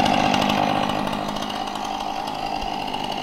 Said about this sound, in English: the saw that was going